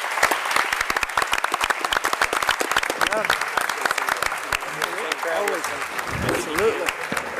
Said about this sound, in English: Let's give these candidates another round of applause.